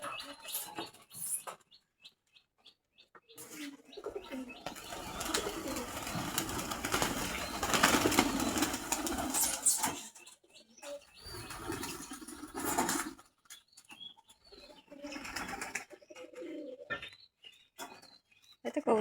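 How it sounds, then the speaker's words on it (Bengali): Pigeons coo softly nearby, and a rush of noise in the middle sounds like a flock flapping up into the air before quieter cooing and chirps return. "ভয়তে কবুতরগুলো আবার উঠে গেছিল।"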